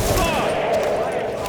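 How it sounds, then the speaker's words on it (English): Small arms gunfire in the game Tom Clancy's The Division, a dense continuous crackle of shots under a raised voice, loud and steady throughout. "Taking small arms fire! Small arms fire!"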